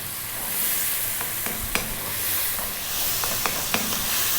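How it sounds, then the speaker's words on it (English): Tomatoes sizzle and cook down in a pan for spicy arrabbiata pasta sauce, a steady frying hiss with occasional sharp stirring clicks and pops, close and continuous with no talking. "I want to cook those tomatoes down."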